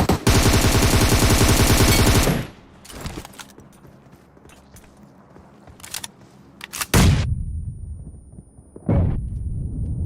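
Rapid automatic gunfire in a team shooter video game crackles in dense, loud bursts, breaking off into sparse shots and short pauses before another heavy burst.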